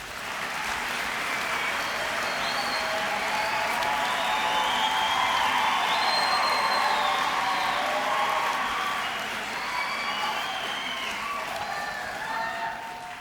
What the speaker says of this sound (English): may we please give another round of applause to our graduates